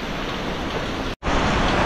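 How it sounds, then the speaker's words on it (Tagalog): Heavy rain during a typhoon, a dense, loud roar of rainfall that cuts out for an instant before resuming. "Lakas pa rin ang ulan."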